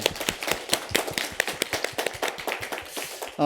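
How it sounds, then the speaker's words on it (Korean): Scattered clapping from a church congregation during a Sunday service, a burst of uneven hand claps at moderate distance, continuing steadily for a few seconds. "우리 박수로 한번 환영하겠습니다"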